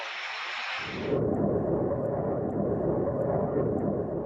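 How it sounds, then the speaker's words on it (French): Fighter jet in rapid climb during a test flight, a loud broad engine roar that swells after a brief higher-pitched rush and then holds steady and close. "Au cours d'un test, l'avion effectue une ascension rapide"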